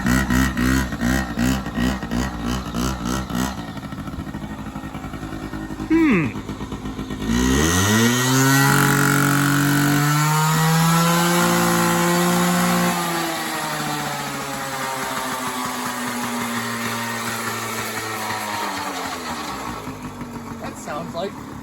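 Pit bike engine revving loud and close, sputtering at first and then climbing into sustained high revs that rise and fall as the throttle works. A voice is briefly audible early on.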